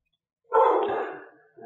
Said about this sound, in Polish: Aż zawył pies.